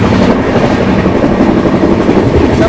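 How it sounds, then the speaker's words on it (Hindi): Uttar Sampark Kranti express train running at 130 km/h with a flat wheel: a loud, continuous rumbling roar with rapid clickety-clack rail beats heard from inside the coach, no talk. "फ्लैट व्हील साउंड कैसा लग रहा है बताना यार कमेंट में एक बार"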